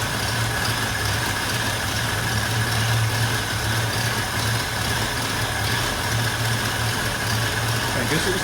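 A 1965 Ford Mustang V8, long unused and leaking fuel from the carburetor, running with a steady rough rumble at close range, constant and loud.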